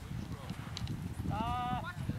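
Horse hooves clopping in a slow, uneven rhythm as the horse is backed up during groundwork training, moderately close, with a person talking over it.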